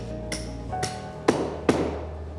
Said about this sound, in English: the lead is soft enough to be cut to length with a hammer and chisel